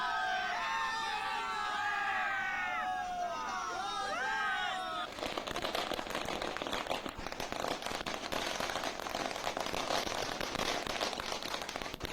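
Rapid crackling bursts of firecrackers pop densely and continuously at a market after a stretch of shouting and whistling from a crowd.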